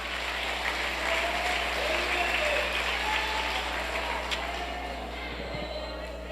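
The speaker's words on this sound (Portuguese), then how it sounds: "Aplauda o nome de Jesus aí com vontade" A church congregation applauds during a worship service, with steady, fairly loud clapping over a low constant hum and the murmur of voices.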